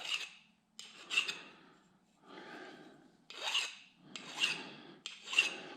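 Metal file rasping burrs off a small metal spool part for a tractor touch control rebuild, in several separate close stroke bursts with short pauses between them.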